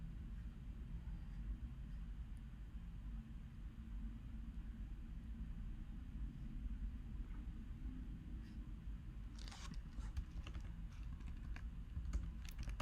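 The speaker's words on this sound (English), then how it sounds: "so let's type it out." Code is typed on a computer keyboard in a quiet stretch of soft key clicks over a low background rumble, and a quicker cluster of keystrokes arrives near the end.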